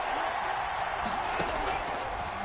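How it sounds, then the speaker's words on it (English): Stadium crowd noise from a football video game: a steady, dense roar of fans holding at one level throughout, broad and continuous with no clear individual voices. "Here comes a big one as this crowd gets up making some noise."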